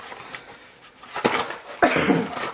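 A single sharp cough bursts out near the mic, followed shortly by a second, louder throat-clearing cough, with quiet room noise between them.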